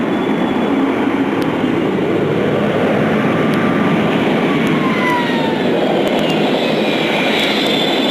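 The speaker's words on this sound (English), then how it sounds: "This Boeing 777 aborting its takeoff and applying full rudder." Loud, sustained roar of a Boeing 777's jet engines during an aborted takeoff on a runway, a broad, powerful rumble with a whining tone that shifts as the aircraft decelerates.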